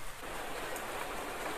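Heavy rain falls steadily in an animated cartoon scene, a dense, continuous hiss of downpour with no voices, even and loud throughout.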